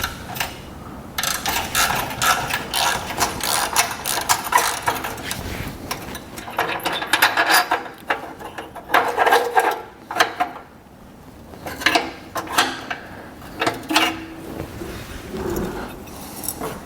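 A ratchet works loose a bolt on the exhaust bracket of a Golf R, giving repeated quick clicking bursts of metallic ratcheting that are close and fairly loud, with short pauses between runs.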